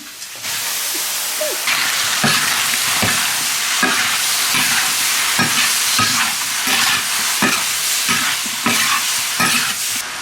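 Shrimp and vegetables being stir-fried for a spicy hot pot, with steady loud sizzling and repeated scraping strokes of a spatula in the wok throughout.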